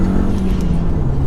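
An Audi TT 225 with a 1.8T turbo engine, fitted with an oversized turbo inlet pipe and a cone filter, accelerates on a dual carriageway, giving a loud, steady engine drone with a rising pitch heard from inside the car.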